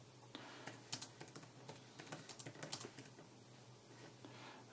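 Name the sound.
typing on iPad keyboard case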